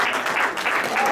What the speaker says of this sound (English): a big round of applause at this time as we celebrate your love.